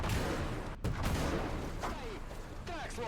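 A Soviet 45mm M-37 anti-tank gun firing in Gates of Hell: Ostfront, heavy booming reports with rumbling tails amid battlefield noise, while someone speaks over the shots.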